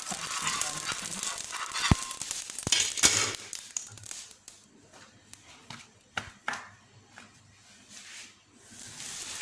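Frozen paratha dough laid on a hot tawa, sizzling with a strong hiss at first that thins into softer crackles and small taps from a utensil, heard close with no talk.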